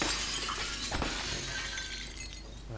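Glass shattering in the video game Play the Prey, a bright crash and scattering of shards, loud and close, then fading into a dull background.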